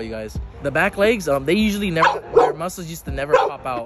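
A dog barks and yips repeatedly, wanting to play ball, mixed in with a person talking close by; the barks come in short, loud bursts.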